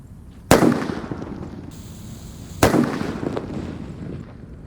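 A power extender firecracker set off for Ramadan gives two sharp, loud blasts about two seconds apart. Each bang leaves a long, rumbling decay behind it.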